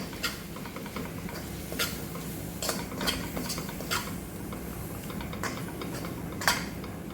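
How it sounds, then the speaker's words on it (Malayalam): Beef curry masala with meat masala powder being stirred in a pan, giving a run of close, sharp scraping clicks and spoon taps against the metal over a faint low background. "അതിനുശേഷം നന്നായിട്ട് ഇളക്കി കൊടുക്കുവാണ്"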